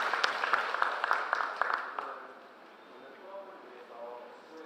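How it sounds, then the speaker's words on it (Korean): Audience at an architecture and urban planning forum giving a short round of applause, a few seconds of moderate clapping that fades out into quiet room tone with faint murmuring. "박수 한번 부탁드리겠습니다"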